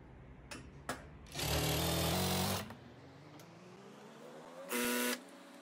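A sewing machine stitches a folded fabric strap for a frock, running in two bursts, one long and one short, with a steady whirring drone between brief pauses.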